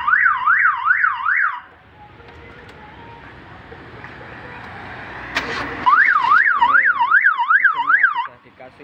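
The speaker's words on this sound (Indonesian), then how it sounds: "Mesinnya sudah dikasih central lock alarm." A car alarm on a 1995 Suzuki Katana GX wails loudly and close in a rapid rising-and-falling warble, breaking off into a quieter gap before starting again.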